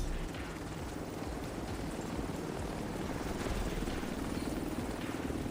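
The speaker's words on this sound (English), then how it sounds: "Helo arrived." Steady, low rotor thrum of a helicopter arriving in The Division 2, holding at an even level throughout with no talk over it.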